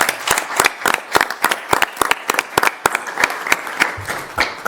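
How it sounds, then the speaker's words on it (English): Applause from the audience at a school board meeting, a modest group clapping nearby, with distinct, fairly sparse claps heard clearly on their own without talking. "let's a round of applause"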